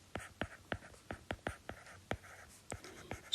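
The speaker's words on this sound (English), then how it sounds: "Percentiles, I have to write it down here" Pen or pencil writing on paper while working through a percentiles math problem: a quick series of about a dozen sharp scratchy strokes, faint and close, with no talk.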